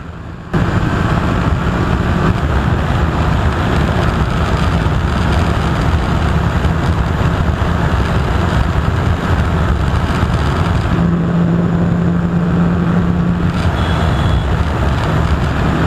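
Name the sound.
TVS RR310 and Bajaj Dominar 400 motorcycles drag racing on highway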